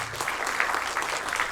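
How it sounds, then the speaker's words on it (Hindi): Audience applause for a felicitation stage honouring meritorious 10th and 12th board students, a short steady burst of clapping filling the hall at moderate level. "इस मंच के लिए बहुत जोरदार तालियां।"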